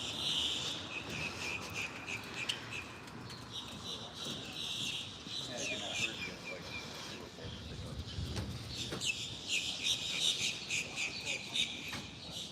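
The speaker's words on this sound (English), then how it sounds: "these crows are just squawking away" Crows squawk repeatedly at a lakeside boardwalk in the early morning, their harsh calls mixing with busy bird chatter and steady insect-like background noise at moderate distance.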